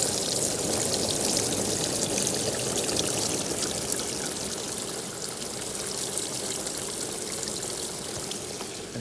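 Water pouring through a homemade pond filter sieve, a budget bakki-shower style build, making a steady close splashing and trickling rush that runs unbroken throughout with no voices.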